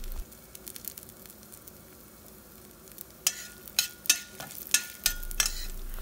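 Urad dal and chana dal fry in a spoonful of hot oil in a pan, a faint steady sizzle broken late by a run of light scraping and tapping stir strokes, with no voices.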